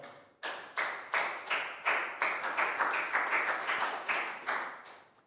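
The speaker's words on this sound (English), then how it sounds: "Big round of applause for Prel." Children in a Year 3 classroom clap in about a dozen sharp, evenly spaced bursts, brief rhythmic applause from a small group with no talking over it.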